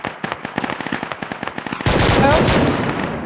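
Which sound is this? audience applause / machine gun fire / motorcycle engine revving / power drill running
machine gun fire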